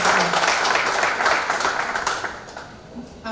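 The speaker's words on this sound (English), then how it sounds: "let's clap for ourselves and for Caucus team for this" A party audience in a hotel hall in Juba claps together in dense, sustained applause that slowly fades toward the end.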